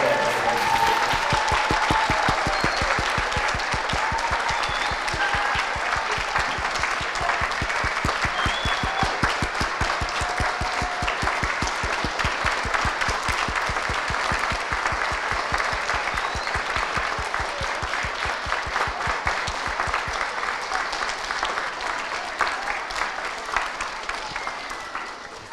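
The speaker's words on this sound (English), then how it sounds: "give a round of applause to all of our veterans who are with us today" Sustained, loud applause from a large audience honoring veterans at a live-streamed event: dense, even clapping from many hands for about 25 seconds, thinning slightly at the close.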